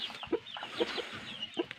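Backyard chickens raised on a small farm cluck in short, close, fairly loud bursts, three clear clucks spaced across a soft rustling background.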